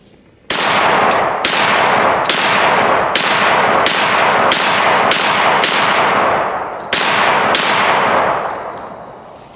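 Mossberg 940 JM Pro semi-automatic shotgun firing rapidly, about a dozen loud sharp blasts in quick succession with short pauses between strings, each shot ringing out with a bright metallic decay.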